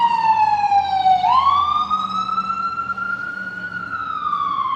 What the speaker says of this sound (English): We got the sirens.